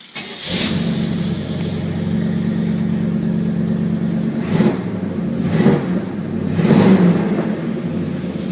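An old 1968–71 Oldsmobile Cutlass engine with an exhaust manifold leak idles roughly at close range, then revs in three sharp bursts, with a raspy, leaky exhaust edge.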